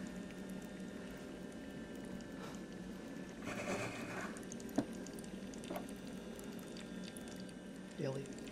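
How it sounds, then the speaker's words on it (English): A small battery-powered desktop waterfall runs water in a soft, steady trickle and gurgle with faint drips, quiet and close, while a low hum and a few light clicks sit underneath. "there are the streams for the waterfall."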